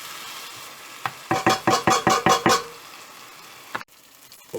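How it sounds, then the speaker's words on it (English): Beef vindaloo frying in a pot, stirred in a quick run of about six rhythmic scraping strokes over a low sizzle, then a single clank of utensil on metal before the sound drops back. "And let it fry for about"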